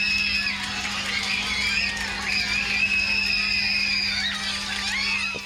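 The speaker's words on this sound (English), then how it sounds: "what is that screaming kid in the background?" A child's shrill, sustained scream continues without a break, wavering in pitch, heard over a steady background hum at a Rubik's Cube world record attempt.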